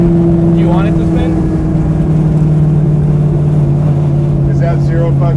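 Buick Regal parked in place with its engine running, a loud steady droning idle with a constant hum under brief talk, no clear tire squeal or spinning.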